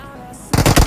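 Gunfire in the mobile battle royale game BGMI: after a quiet start, a loud rapid burst of several automatic shots cracks out in the second half.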